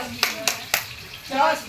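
A group clapping the Tepuk Mas Jos rhythm at a Malam Tirakatan neighbourhood night gathering in Kampung Jogokariyan, Yogyakarta: three sharp, evenly spaced claps ring out close by, and a voice follows.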